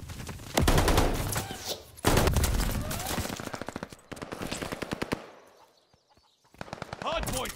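Gunfire rattles around a contested hardpoint in Call of Duty: Vanguard: dense, loud machine-gun bursts in rapid repeated volleys, a brief lull, then renewed firing, with game voice callouts mixed in.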